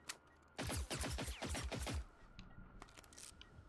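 Rapid automatic gunfire in the video game Generation Zero, a loud burst of about a dozen quick shots over roughly a second and a half, followed by quieter scattered shots and clatter.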